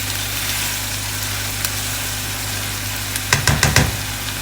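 Onions for a Pakistani-style meat and potato curry cook in a pan with a steady close sizzle and a low hum, and a few stirring knocks come near the end.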